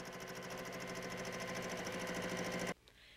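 A quilting sewing machine runs flat out with the foot pedal fully down, a steady rapid needle chatter and motor hum that holds constant, close up, then cuts off abruptly near the end.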